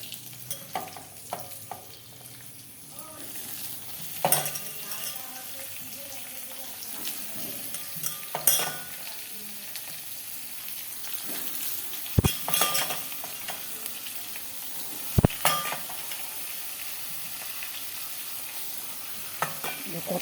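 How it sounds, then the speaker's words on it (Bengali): Soaked soybean chunks frying in oil in a pan with a low sizzle, broken by irregular utensil scrapes and a few loud clanks against the pan, and brief bits of speech. "সোয়াবিনটা একটু ভাজা ভাজা করে নিব।"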